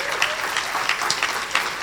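An audience at a career and education event claps in a dense, continuous round of applause, close and steady for the whole stretch, with a faint voice underneath.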